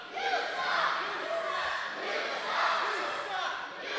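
Independent wrestling crowd jeers and shouts at wrestler Chris Hicks in a dense, continuous roar of voices that swells and fades, with a commentator talking over it.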